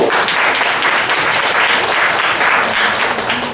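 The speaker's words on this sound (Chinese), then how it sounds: "是不是再给一个掌声" A crowd at an in-store bookstore reader event claps loudly and continuously, a thick close wash of many hands with no voices.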